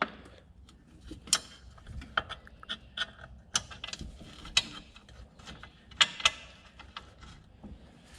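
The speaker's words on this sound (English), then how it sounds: "We just gotta sneak my massive hand in here and get these 10mm bolts back in place." Tools work on 10mm bolts on the steering shaft of a Qlink Frontrunner 700 UTV, heard as scattered close metallic clicks, ratcheting ticks and clanks with quiet gaps between them.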